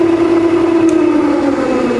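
A Bridgeport milling machine with a 48 inch table runs its motor in low range, a steady, smooth hum with a constant tonal drone and no talk, holding level for the whole stretch.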